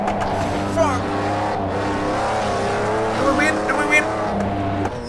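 McLaren F1 race car driven in the game Project Cars 2, a loud, continuous engine whine that rises and falls through the gears, with tire noise underneath and a voice talking over it.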